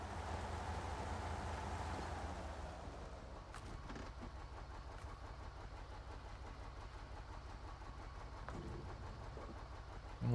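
Heavy truck in the Snowrunner video game rumbling along railroad tracks, a steady low engine drone with rattling rail-wagon texture that stays loud and continuous throughout.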